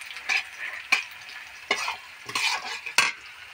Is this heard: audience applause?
no